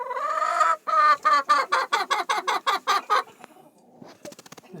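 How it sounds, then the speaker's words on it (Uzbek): Laying hens in a henhouse cluck loudly up close: one long drawn call, then a rapid rhythmic string of about a dozen evenly spaced clucks, followed by fainter quicker clucking as it trails off. "juda yaxshi tovuqlar ekan."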